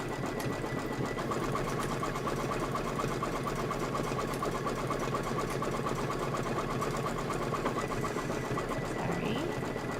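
Sewing machine joining quilting fabric pieces, a continuous mechanical hum with fast rhythmic needle ticking, steady and moderately close throughout.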